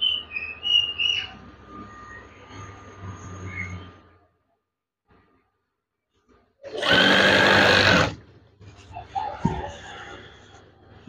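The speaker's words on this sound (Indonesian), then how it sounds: "Jahit hingga akhir bahan ini." A sewing machine stitches fabric in one loud, steady burst of about a second and a half, after a quiet pause, with faint background noises and chirps around it.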